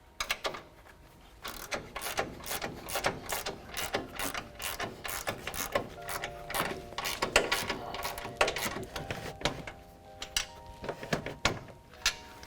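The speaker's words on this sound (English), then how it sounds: "grab our ratchet and a 17mm socket to tighten down these 3 nuts" A hand ratchet with a 17mm socket tightens nuts on a coilover top hat during a Fox 2.0 front suspension install on a 2005–2020 Toyota Tacoma, giving bursts of sharp, close clicking with brief pauses between strokes.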